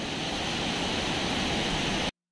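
A waterfall in the mountains near Chopta, heard as a dense, steady rushing roar of falling water that fills the whole clip at a constant level before cutting off abruptly.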